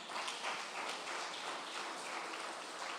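Church congregation applauding during a sermon, a steady wash of many hands clapping at moderate distance, quite faint and unbroken for the whole stretch with no talk over it.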